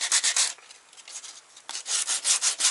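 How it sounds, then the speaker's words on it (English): Coarse 80 grit sandpaper rubs over the shaved metal engine bay of a VW MK2, close and loud, in quick repeated back-and-forth strokes with a short lighter pause midway. "So we're gonna sand this down"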